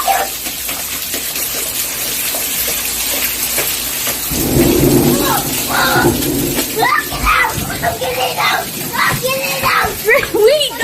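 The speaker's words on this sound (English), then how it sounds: "It's raining, it's pouring." Heavy rain pours down amid rolling thunder, a loud crack and rumble swelling midway, while splashing water and raised voices of people caught outdoors break through the downpour.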